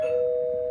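A single sustained doorbell chime rings clear and steady in a home, loud and alone with no voices.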